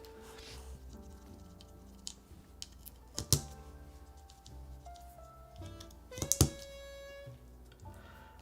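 Keys on a mechanical keyboard fitted with Calligraphy switches are tapped at a quiet, uneven pace, a few sharper clacks standing out against a soft background.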